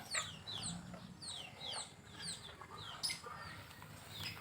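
Backyard chickens at home, gathering for feeding time, cluck and chirp in a quick, repeated chatter at a faint distance over a low background hum.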